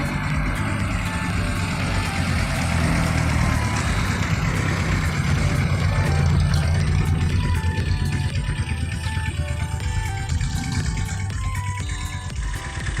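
A Rusi Gamma 200cc motorcycle engine revs hard toward the red line, a loud, continuous droning roar with rising and falling pitch and no talk.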